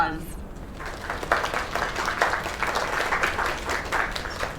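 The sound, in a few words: crowd applause in video game Lake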